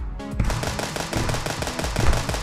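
Sniper rifle fire in a shooter game against animatronic enemies, a loud, dense run of rapid, punchy shots with booming low impacts, nearly continuous for two and a half seconds.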